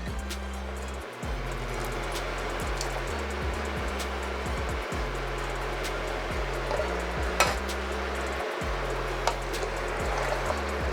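A pot of sweet and spicy Mexican soup with diced fire-roasted tomatoes and their juice is stirred, giving a continuous close wet swishing and bubbling over a steady low hum, with occasional small clinks.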